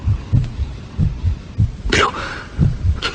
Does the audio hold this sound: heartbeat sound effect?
yes